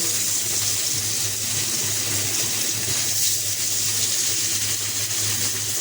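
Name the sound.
fish pieces frying in hot oil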